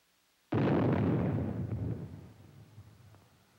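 An atomic shell fired from an Army 280-millimeter gun detonates with a sudden, massive blast, then a long rumbling roar that slowly fades over several seconds, heard alone without voices.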